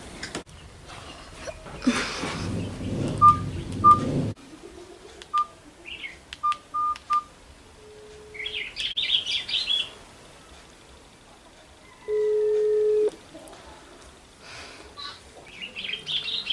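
A mobile phone sounds short electronic beeps and tones, broken up across the stretch, with birds chirping in the background and a longer steady tone near the end.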